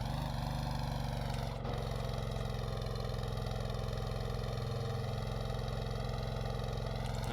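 Engine idling in the video game Stormworks, a steady low droning hum with even harmonics, constant and unbroken with no talk.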